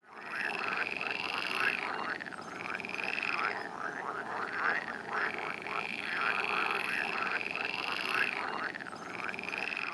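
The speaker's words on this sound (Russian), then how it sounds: "Правильно, в пруду живут и лягушки." A chorus of pond frogs croaking steadily, many overlapping calls forming a dense, continuous rhythmic racket.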